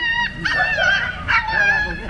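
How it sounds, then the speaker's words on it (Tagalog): A dog whimpers and cries nearby in a series of wavering, high-pitched whines, two drawn-out cries in quick succession with short yips between them. "Ano kayang nangyari sa aso? Kanina ko pa naririnig na umiiyak."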